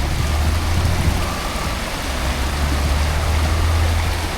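Water rushes steadily in an Alaskan salmon creek, a dense continuous flowing hiss with a low rumble underneath, close by and loud, with no voices.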